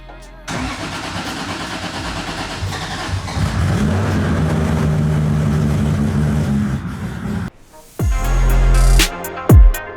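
A freshly installed 3.4-litre 2JZ engine in a BMW E46 cranks and catches on its first start, then idles roughly and rises in a steady revving drone before cutting out and blipping the throttle a few times.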